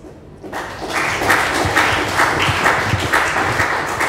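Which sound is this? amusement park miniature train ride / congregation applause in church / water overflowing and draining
congregation applause in church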